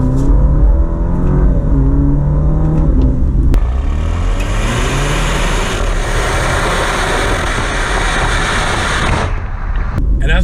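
A 2021 Alfa Romeo Stelvio Sprint surges forward in dynamic mode with manual shifting, its engine note climbing loudly and steadily from the cabin, with a rising revving tone after the initial push and a brief easing near the end.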